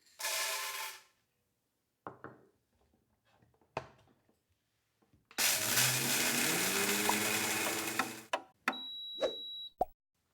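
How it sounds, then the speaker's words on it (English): An OmniBlend kitchen blender grinding coffee beans whirs in short pulses, then grinds hard and loudly for about three seconds, with clunks and rattles of beans before and after. "The OmniBlend can grind coffee beans."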